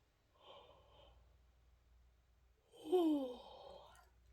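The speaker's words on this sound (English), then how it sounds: "Starting out with yawning, not a great concept." A single drawn-out human yawn, rising into a loud breathy sigh near the end and preceded by a softer exhale, close and with no talking.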